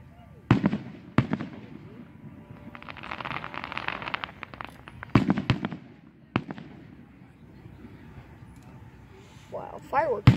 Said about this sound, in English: Wow, fireworks are awesome.